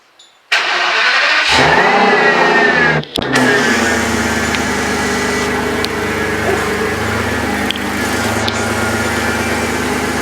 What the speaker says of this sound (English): It's definitely louder than any other V12 Aston I've heard, kind of just sitting around.